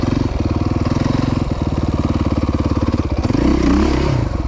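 A dirt bike engine runs close by on a trail at the Croom Motorcycle Area, with a steady rapid pulsing putter that climbs in pitch as the throttle opens near the end.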